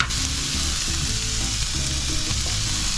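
Vegetables for a Mexican parrillada sauté in a pan with a loud, continuous close-up sizzle and crackle, stirring clatter running throughout, no voices.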